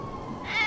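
A cat meows once inside the game GTA 5, a short rising call that swells near the end, heard up close over a steady background hum.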